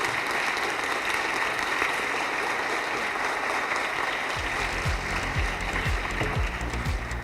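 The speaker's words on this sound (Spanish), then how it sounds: "quiero pedir un aplauso para Roberto" A crowd applauds for Roberto at a talk session, a continuous, even roar of clapping joined midway by faint low sliding tones beneath it.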